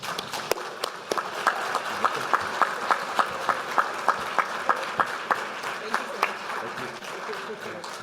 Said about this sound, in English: let's give a big round of applause for B.